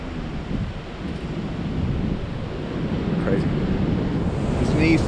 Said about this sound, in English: It's an easterly wind tonight.